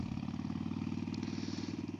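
A Harley-Davidson Forty-Eight or Indian Scout motorcycle engine runs steadily at a low idle-like rhythm, a close, continuous pulsing throb with a faint rattle on top.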